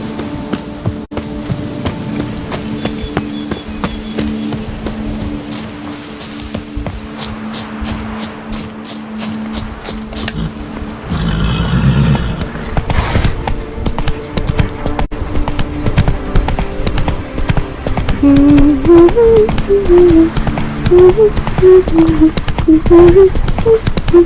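Roach, the horse in The Witcher 3, gallops in a steady clip-clop that grows louder partway through, mixed with ambient game music and no talk.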